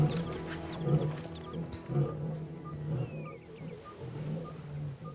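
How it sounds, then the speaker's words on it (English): A lion roars from out in the wild, with a low, rumbling call rising and falling over a few seconds. It sounds moderately loud against faint outdoor background and scattered bird calls. "instantly responds to the sound of an unfamiliar lion"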